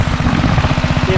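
A new water pump's small engine runs steadily at partial throttle, a close, continuous low throbbing drone with a fast pulsing rhythm throughout.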